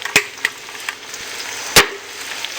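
Carrots tipped into a hot frying pan for chicken Chinese fried rice give a steady close sizzle, broken by a few sharp clinks and scrapes of a spoon spreading them out.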